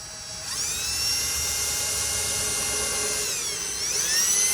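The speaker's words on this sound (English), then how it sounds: "we're done with the drill" A power drill whirs steadily at high speed for several seconds, its pitch dipping briefly before rising again, close and loud.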